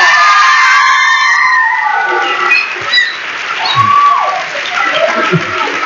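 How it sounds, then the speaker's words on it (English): An audience applauding and cheering loudly together in one sustained burst, with shouts and children's voices mixed into the crowd noise, gradually thinning toward the end. "Let us give our young people another round of applause."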